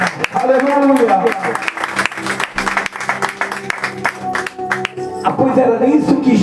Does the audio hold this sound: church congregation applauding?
yes